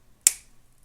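A single crisp, close snip as cutters trim the excess cord from a boho lariat necklace, leaving a brief ringing tail before quiet.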